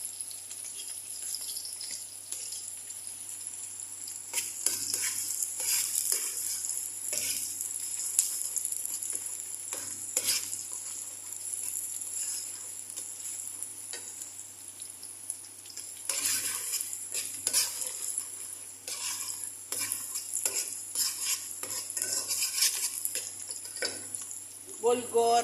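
Ingredients sautéing in a pan for a Filipino dish, a steady hiss of sizzling with occasional stirring and utensil clinks against the pan; a voice talks briefly in places.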